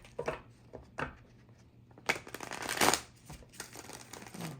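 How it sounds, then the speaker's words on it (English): Tarot cards being shuffled by hand in bursts, riffles and a louder flurry of card slaps near the middle, close and fairly quiet, with no talking. "Let's go ahead and shuffle the cards"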